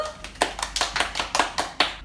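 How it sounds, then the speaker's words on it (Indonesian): About nine sharp hand claps from a small group, close by, in an uneven rhythm, with no talking over them. "Tepuk tangan dulu."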